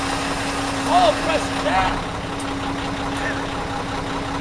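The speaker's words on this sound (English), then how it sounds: "inserting my key, starting the engine" A truck engine cranks and settles into a steady idle, a constant low drone heard close from the cab while a person speaks briefly over it.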